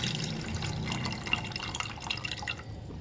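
Water pouring into a cooking pot for red lentil rice, a steady close splashing trickle with little drips, continuous for a few seconds.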